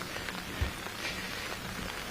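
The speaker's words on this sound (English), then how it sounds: "but of course also receiving some rain as I talk now." Rain falling outdoors at a vehicle plant commissioning ceremony, a soft continuous patter with a faint low thump, heard alone without voices.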